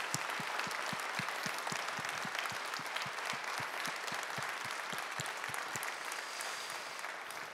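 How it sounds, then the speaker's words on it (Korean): A large church congregation at a New Year's Eve service claps steadily and fills the room with dense applause, with some rhythmic unison beats running underneath before it slowly fades. "우리와 함께 하신 우리 하나님께 다시 한번 모든 감사 영광의 박수를 올려드리도록 하겠습니다."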